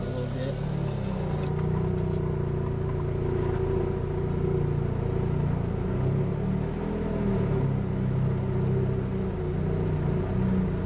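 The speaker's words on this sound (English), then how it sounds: "One last treat I'll throw in is some footage of me driving across the bridge" A car crosses a covered bridge with the window rolled slightly down, a steady engine and tyre rumble holding constant and close throughout, a faint voice underneath.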